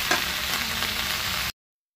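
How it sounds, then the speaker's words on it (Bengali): Leftover stale rice fries in a pan with raisins while a spatula stirs it, giving a steady, close, dense sizzle with scraping that cuts off abruptly after about a second and a half. "মেয়ে এবার খুন্তি নাড়ছে"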